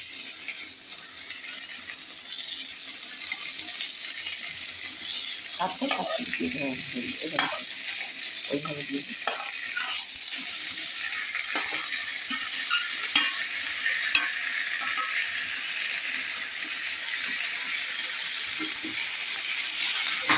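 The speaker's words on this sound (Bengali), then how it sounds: "এবার পনিরগুলো একটু দিয়ে দেবো হালকা নাড়বো পনিরগুলো বেশি ভাজবো না" Paneer cubes fry in a pan for palak paneer under a steady, fairly quiet sizzle, with bursts of scraping and clattering as they are gently stirred, then a long even hiss.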